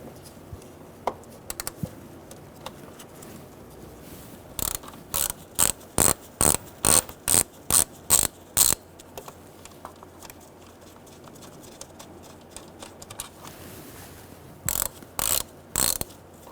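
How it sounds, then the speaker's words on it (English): A ratchet with an 8mm socket clicks in quick rapid bursts while undoing bolts on the idle air control valve of a 2000-2007 Ford Taurus 3.0L V6, close and crisp against a quiet room. "Now we're going to use an 8mm socket, and we're going to undo these two bolts."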